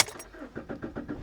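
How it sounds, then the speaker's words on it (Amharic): A car engine cranks and turns over in a quick, rhythmic burst of short pulses, close and moderately loud, on a rainy day. "በጣም መኪናችንን እናስነሳ።"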